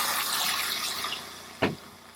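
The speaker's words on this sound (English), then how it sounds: "I've had to pour it awfully fast, which is a lot faster than I would normally do into a jar like this" Liquid pours quickly from a spouted pot into a jar, a continuous rushing, splashing flow that gradually fades, ending with a short bump or clink near the end, close and alone.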